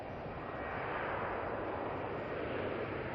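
Velocity passenger jet taking off from a Melbourne Airport runway, a broad, steady jet-engine roar holding loud and constant throughout without speech.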